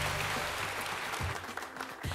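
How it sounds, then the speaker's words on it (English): Audience applause for a keynote speaker at an evening event, a steady wash of many hands clapping through the whole stretch, fairly quiet and slightly distant, with a brief faint voice near the end. "Let's give her a round of applause"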